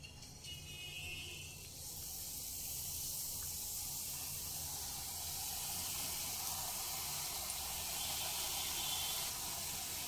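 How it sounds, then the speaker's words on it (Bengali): Gathiya strands frying in hot oil on low flame for homemade chanachur, a steady close sizzle and hiss that swells slightly after the first couple of seconds and holds continuously. "এবার গাঁঠিয়ে ভেজে নেব।"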